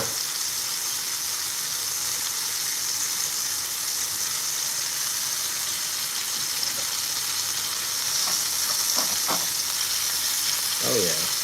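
Steak searing in a cast-iron pan gives off a loud, steady, close sizzle and hiss that runs unbroken, with a few brief clicks and crackles near the end and no voices.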